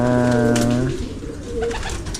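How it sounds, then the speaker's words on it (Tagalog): Pigeons in a loft cooing, a low sustained coo in the first second followed by softer rustling and faint bird sounds, close and fairly loud. "Dami na rin ang ibon natin ha."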